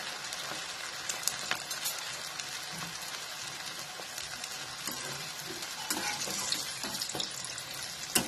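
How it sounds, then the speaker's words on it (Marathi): Spring rolls fry in hot oil over a low flame, giving a dense, continuous close sizzle with occasional pops and crackles throughout and no talking. "आता हे चांगले तळून घ्यायचे"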